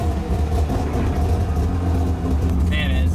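A Mazda RX-7 with a naturally aspirated three-rotor 20B rotary engine thrums in a steady low drone from inside the car, with people talking over it throughout.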